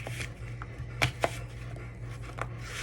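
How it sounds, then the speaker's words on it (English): A knife chopping an apple on a cutting board, a few sharp irregular knocks over a steady low hum, close by and moderately quiet. "So I'm just chopping this up."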